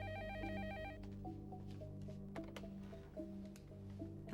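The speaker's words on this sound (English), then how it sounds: "It's ringing." A telephone rings in repeated electronic trills over a steady background music bed, with brief clicks and knocks scattered throughout.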